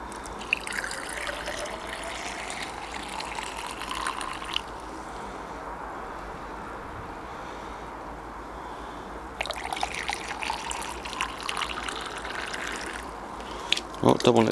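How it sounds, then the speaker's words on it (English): Hot tap water runs through a cold DPF (diesel particulate filter) during an off-car cleaning, giving a steady trickling, fizzing and bubbling flow that continues throughout at moderate level. "It's fizzing away in there, bubbling away."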